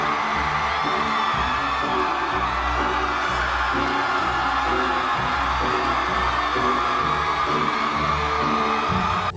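A large audience at a Marvel conference screams and cheers in a dense, continuous roar that stays loud throughout, with whoops rising above a booming low rumble.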